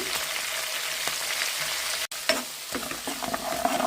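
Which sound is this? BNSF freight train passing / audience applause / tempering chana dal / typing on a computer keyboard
tempering chana dal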